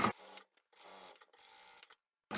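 A sewing machine stitches straight across the pocket fabric of a hanging door shoe rack, with three separate bursts of steady whirring split by short pauses and a sharp click at each end, close and alone.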